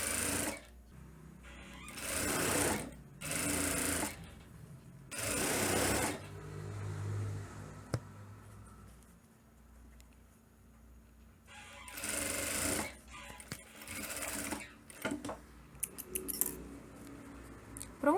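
A sewing machine stitches elastic onto a shirt cuff in short bursts of fast, whirring runs separated by pauses, with small clicks and handling noises between the stitching.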